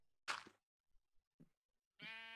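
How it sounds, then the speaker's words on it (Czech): A sheep in the Minecraft video game gives a single clear bleat near the end, standing out after a few faint, brief sounds and short silent gaps. "Akorát tady je ta ovce."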